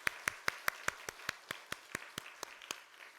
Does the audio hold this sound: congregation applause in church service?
yes